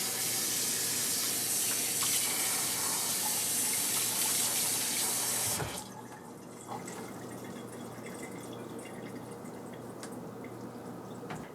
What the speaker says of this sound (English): Now transfer it into a colander and rinse it with cold water.